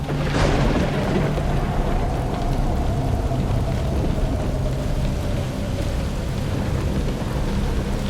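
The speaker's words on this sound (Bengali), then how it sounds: "চৈত্রের শেষ আর বৈশাখের শুরুতে যেমন হঠাৎ কালবৈশাখী আসে" Heavy rain pours down steadily while a deep roll of thunder rumbles early on, loud and close.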